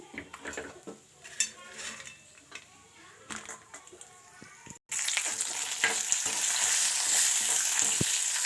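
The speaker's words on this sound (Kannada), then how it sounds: "ಇವಾಗ ನಾನು ಗೋಡಂಬಿ ದ್ರಾಕ್ಷಿಯನ್ನು ಫ್ರೈ ಮಾಡ್ಕೊಳ್ಳೋದ್ರ ಜೊತೆಗೆ ಬಾದಾಮಿ ಕೂಡ ಜೊತೆಗೇ ಮಿಕ್ಸ್ ಮಾಡ್ಕೊಳ್ತೇನೆ" Cashews, raisins and almonds frying in ghee: clinks of a spoon against a pan and light stirring at first, then a loud, steady sizzle taking over for the second half, close up with no talk.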